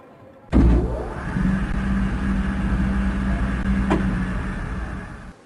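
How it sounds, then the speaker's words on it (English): Space Shuttle solid rocket boosters igniting at liftoff: a sudden loud roar bursts in and holds as a dense, steady low rumble with crackle for several seconds, no talk over it. "We have ignition of the solid rocket boosters and liftoff."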